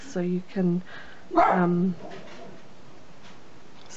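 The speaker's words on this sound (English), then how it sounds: "excuse my dog for barking." A dog barks three times nearby, short sharp woofs in quick succession, with a brief murmur of speech at the start.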